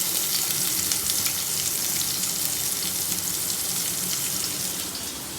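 Sliced onions and whole cumin seeds fry in hot oil in a pan, a loud, close, continuous sizzle that eases slightly toward the end, with no talking.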